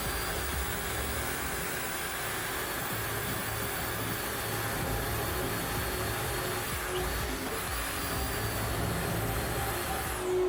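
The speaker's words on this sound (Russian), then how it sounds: "Когда сверлите, можно подставить пылесос." A vacuum cleaner held under a drill bit while holes are bored for electrical wiring in a new-build flat gives off a steady, moderately loud whirring hiss that stays even throughout, with no talking.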